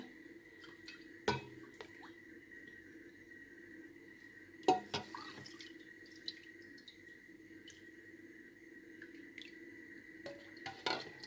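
Sparse drips and small splashes of grape juice fall through a strainer at irregular intervals against a faint steady hum, with an occasional light clink.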